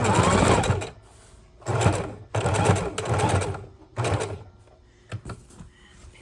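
A sewing machine stitches lace onto a mini junk journal in several loud, rapid bursts of about a second each, separated by short quiet pauses, close up and without talking.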